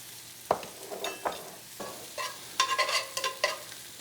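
Fresh ginger and garlic sautéing in a pan, with several scraping stirs and bursts of sizzle coming in uneven strokes, close and fairly soft.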